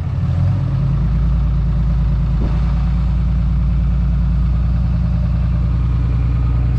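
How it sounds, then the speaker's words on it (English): A farm truck engine runs at high idle on a cold day, a loud, steady, close rumble with a fast even throb and no break throughout. "One of the nice things about this truck is it's got high idle."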